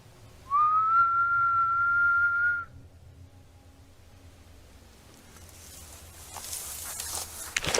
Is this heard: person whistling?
yes